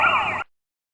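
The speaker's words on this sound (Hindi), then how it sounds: "आखिरकार पुलिस का सायरन सुन ही लिया था अपनी कुछ ही दूरी से" A wailing police siren rises and falls loudly for a moment, then cuts off abruptly into silence.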